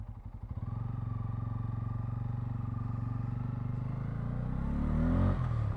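A Bajaj Pulsar N250 motorcycle accelerates hard, its engine note a steady throbbing drone that climbs in pitch and grows louder toward the end, heard close and alone without talk.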